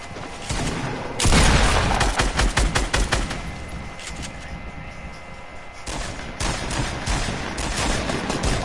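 Gunfire in a video game: a loud burst of rapid shots hits near the start, followed by further volleys and scattered single shots over continuous background rumble, with a player speaking faintly at times.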